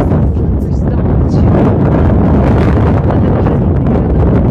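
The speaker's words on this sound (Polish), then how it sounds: "Bardzo wieje zimny wiatr" Cold wind blasting across the summit of Vinicunca, the Rainbow Mountain at 5036 m, loud continuous buffeting roar against the microphone throughout.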